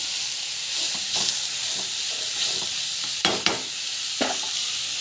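Chilli powder frying in a pan, with a continuous loud hiss and sizzle and a few sharp spoon scrapes and clinks as it is stirred.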